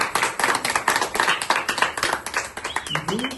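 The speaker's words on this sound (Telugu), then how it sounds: "మీరు చప్పట్లు కొడితే మీరు ఆమోదిస్తున్నట్టుగా నేను భావిస్తాను" Audience clapping in approval at a birthday felicitation event, a dense burst of applause running throughout alongside a speaking voice, with a brief tonal sound near the end.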